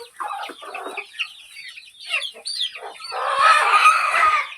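Several free-range village chickens cluck and chatter close by at morning feeding, with overlapping calls that build into a busier, louder flock toward the end.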